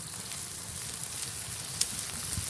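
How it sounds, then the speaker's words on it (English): Soft, steady sizzling of food cooking over a fire on an outdoor stove, quiet and continuous with faint crackles. "See that sizzle? That beautiful fire."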